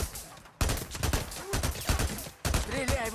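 Rapid bursts of gunfire in the Days Gone game ring out close and loud in dense volleys, broken by short pauses.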